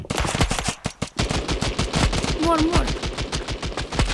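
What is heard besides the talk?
gunfire from a video game, Counter-Strike style shooter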